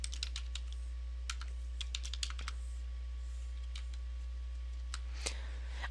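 Computer keyboard typing while names are entered into a Google Calendar event, a steady run of light clicking keystrokes at close range over a low constant hum, with no talking.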